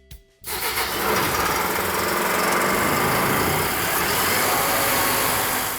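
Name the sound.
engine of wet blast unit starting and running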